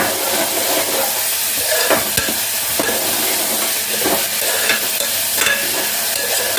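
Onions and a spice paste fry in a pan for a poppy seed curry, a loud continuous sizzle with occasional stirring scrapes, close up and without talk.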